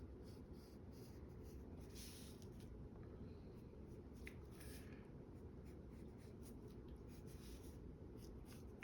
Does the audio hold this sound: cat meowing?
no